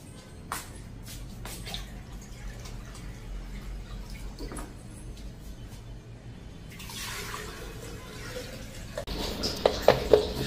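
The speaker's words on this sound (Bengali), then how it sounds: "এখন বালতির জল অল্প আসতে এটা ঢেলা দিই।" Water trickles slowly from a bucket in a home kitchen, with soft drips and gentle pouring that builds into a fuller splash near the end, heard close and fairly quiet.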